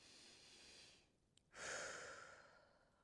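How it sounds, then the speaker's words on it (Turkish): A person draws one audible breath in a quiet indoor setting, a short soft inhalation after a brief pause, close and alone with no talk. "Bir nefes alır mısın?"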